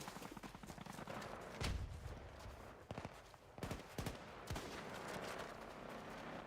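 Single-shot gunfire in a Battlefield video game, several sharp, separate reports spaced irregularly over a steady background of battle noise.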